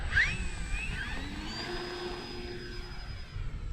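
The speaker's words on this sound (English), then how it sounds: "We're going to land her in the flat grass again." An FMS P-40B Flying Tiger radio-controlled model plane comes in over a grass field, its electric motor giving a steady, fairly close whine that slowly shifts pitch above low wind rumble.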